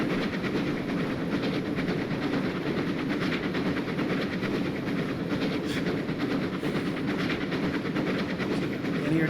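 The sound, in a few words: train running on rails in Train Simulator Classic video game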